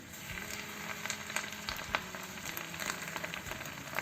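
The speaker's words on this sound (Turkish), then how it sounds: "ben şu çaydanlıktan şöyle bir su ekliyorum" Water poured from a teapot into a pan of pumpkin cooking in melted sugar on a wood stove, giving a steady, close hiss and sizzle with scattered crackles and no voices.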